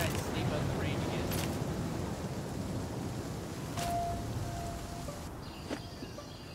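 Steady rain pours in the video game The Flame in the Flood, a dense hiss that fills the whole stretch, with a couple of faint distant rumbles and brief sharp cracks, with no talk.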